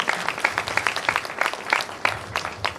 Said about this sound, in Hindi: मैं चाहूंगा गुरुजी के लिए 2 ताली हो जाए।